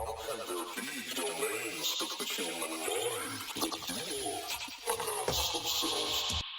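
A trippy bass-music vocal sample buried under heavy effects, compressors, OTT, spectral resonators, reverbs, echoes and delays, plays as a dense, smeared, glitchy wash with warbling, bleat-like tones, loud and continuous for several seconds.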